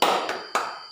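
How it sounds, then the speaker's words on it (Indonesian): A group claps out a rhythmic 'tepuk hebat' cheer for a group of women, with two sharp, loud bursts of clapping about half a second apart. "kita berikan tepuk hebat buat ibu-ibu tadi"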